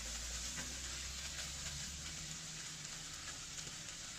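Kung Pao chicken stir-fried with Sichuan peppercorn powder and chopped scallion gives off a soft, steady sizzling hiss over a low background rumble, with no talking.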